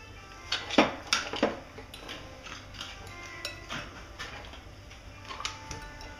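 A whisk clinks and scrapes against a salad bowl while butter and ingredients for an orange and chocolate cake are mixed, a few sharp close taps early on, then softer irregular ticking and scraping.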